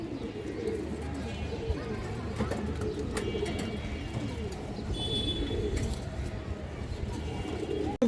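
Pigeons from a high-flyer collection coo in soft overlapping murmurs against a steady low background rumble, with faint chirps and occasional light knocks.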